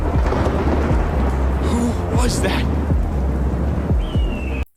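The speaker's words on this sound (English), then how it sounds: "So that's what the thunder was for." Steady heavy rain with rolling thunder rumbles in an animated scene, loud and continuous, with a brief voice speaking over it.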